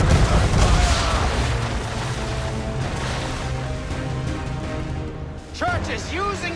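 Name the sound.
gunfire and cannon booms in naval battle, Assassin's Creed 3 video game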